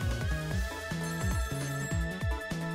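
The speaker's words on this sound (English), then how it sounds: "didn't a telephone call come in around this time too?" A telephone rings in the video game Ghost Trick: Phantom Detective, sounding as a tuned electronic ring in repeating falling-note bursts over busy game music, with no talk.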